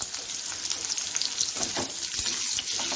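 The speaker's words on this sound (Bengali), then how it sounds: "ওগুলোও দিয়ে দিচ্ছি, দিয়ে ভালো করে সাঁতলে নেব।" Radish pieces sautéing in hot oil in a pan while a tengra fish dish is prepared, giving a continuous close sizzle with occasional stirring scrapes and no voices.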